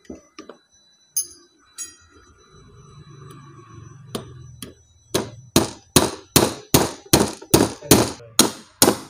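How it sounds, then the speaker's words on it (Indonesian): A hammer strikes a pin into a PCP Apollo air rifle during a leak repair, with a few scattered taps first, then about ten sharp, evenly spaced metallic blows in a steady rhythm, loud and close. "Nah, kita pukul lagi pakai palu."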